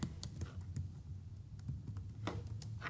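Typing code on a computer keyboard, quiet irregular key clicks close by over a low background hum, no talking.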